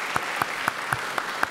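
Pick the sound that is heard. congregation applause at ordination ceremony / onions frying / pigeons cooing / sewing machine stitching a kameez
congregation applause at ordination ceremony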